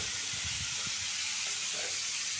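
Fresh rohu fish fries in hot oil in a pan, a loud continuous sizzling hiss with scattered low pops and crackles, steady with no voices.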